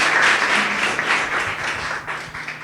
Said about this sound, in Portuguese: Louve ao seu Deus com as suas palmas